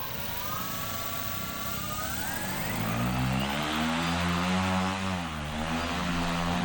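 Propeller motor on a cardboard model airplane, running as a steady buzzing drone that rises in pitch, then shifts into a lower, stronger whir as it spins up, close by with no talking.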